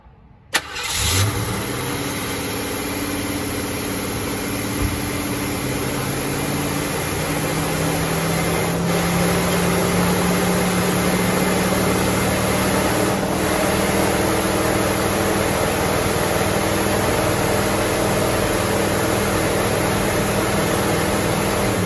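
A barn-find Ford Mach 1 Mustang, unrun for almost ten years, cranks and fires with the choke on, then settles into a loud, steady, slightly rising idle.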